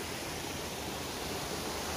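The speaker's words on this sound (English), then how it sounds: "I believe this is the second waterfall" Small waterfall with about a five-foot drop in a hidden creek gorge, a steady close rush of falling water with no breaks or voices.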